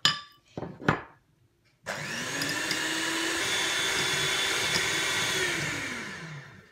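Electric mixer whisking three egg yolks with sugar in a bowl: a couple of brief knocks, then a steady loud motor whir that holds for several seconds before slowing down.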